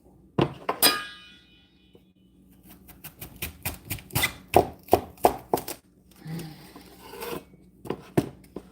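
A knife cuts and trims fennel for a pork, fennel and lemon ragu on a cutting board, with a couple of crisp opening slices, then a quick run of sharp chops, a pause, and a few final cuts, with no talk.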